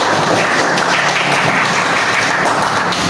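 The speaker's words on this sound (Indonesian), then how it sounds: "Oke, tepuk tangan dulu bersama-sama." A group claps together in a classroom setting, a dense, steady burst of applause lasting the whole stretch with no speech over it.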